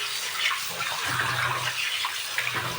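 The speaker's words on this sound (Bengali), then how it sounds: "মাছটাকে ধুয়ে দেয়" Rui fish being rinsed under running tap water, a continuous close splashing gush of water.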